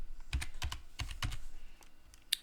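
A password is typed on a computer keyboard running Linux Mint, with the keyboard lagging because its drivers are missing. Soft keystrokes come in small irregular clusters, ending with one sharper key press.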